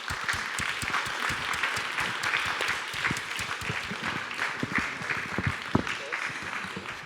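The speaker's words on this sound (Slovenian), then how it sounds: "Še enkrat aplavz." Audience applause after a comic-book presentation and talk, a steady dense patter of many hands clapping that holds evenly throughout at moderate loudness.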